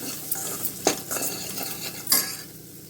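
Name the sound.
stirring spiced green peas in a pan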